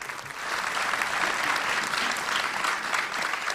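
A conference audience at a Mediapart event on investigative journalism gives sustained, even applause, a dense wash of many hands clapping at moderate distance throughout.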